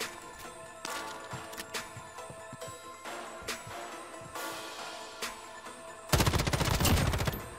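Rapid gunfire rattles in Call of Duty Modern Warfare, with repeated automatic bursts and scattered single shots throughout, then a louder, denser volley of fire near the end, all without talking.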